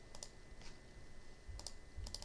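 Computer keyboard keys and mouse buttons clicked in short clustered bursts during design software work, crisp and close, with quiet gaps between the groups of clicks.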